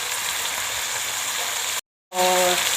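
Chicken and duck pieces sizzle and fry with garlic in a pot, a steady loud crackling hiss that cuts out abruptly for a moment, then returns with a faint hum.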